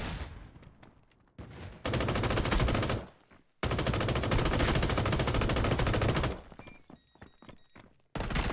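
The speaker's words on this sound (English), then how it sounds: "Oh, they're shooting at me." Sustained bursts of automatic gunfire in a first-person shooter video game, loud and dense, coming in two long volleys separated by a short gap, with a few scattered single shots and thuds toward the end.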